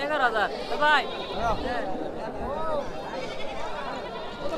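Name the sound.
goats bleating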